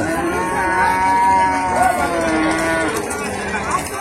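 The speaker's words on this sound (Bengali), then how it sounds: "তো বিশাল বিশাল গরু আছে, বড় বড় গরু।" Cattle at a village cattle market give a long, loud, drawn-out moo close by, with other lowing and crowd murmur around it.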